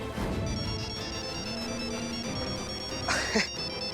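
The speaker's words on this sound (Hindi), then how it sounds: "हमारा भी फोन आ गया" A phone ringtone plays a short melodic tone pattern over ongoing background voices and music, then a brighter burst near the end.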